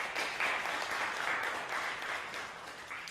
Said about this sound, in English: Round of applause for Erica.